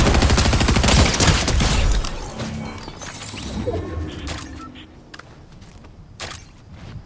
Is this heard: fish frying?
no